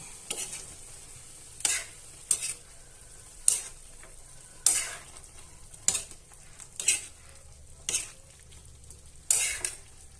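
Chicken adobo with string beans is stirred in a pan, with about eight crisp, evenly spaced spoon scrapes over a low, continuous sizzle.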